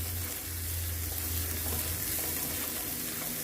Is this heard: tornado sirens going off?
no